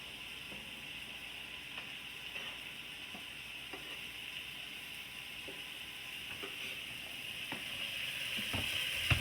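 Vegetables sizzling in a pan with melting fat for Mexican beans, a faint steady hiss broken by occasional soft clicks and scrapes, growing slightly louder toward the end.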